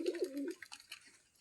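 Pigeons cooing softly in a loft holding several breeds, one low throaty coo up front and then faint fluttery background sounds.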